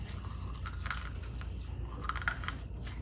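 Crunchy fried dumplings being bitten and chewed up close, steady crisp crunches with a low background rumble and no talk.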